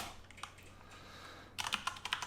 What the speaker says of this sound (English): So let's type in ARTY move